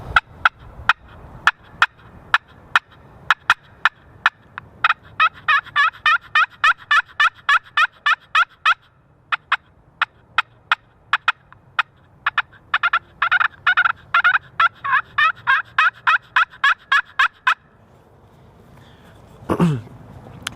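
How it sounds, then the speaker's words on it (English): An aluminum slate turkey call from Hardy's Custom Calls is worked in sharp, rapid clucks and yelping runs, loud and close, in bursts separated by short pauses. "this is a aluminum slate call"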